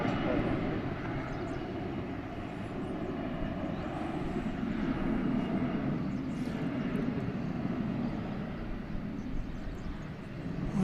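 An Embraer 170 jet at DFW airport rumbles with a steady, moderately loud engine drone, sustained across the whole stretch, while a voice talks over it.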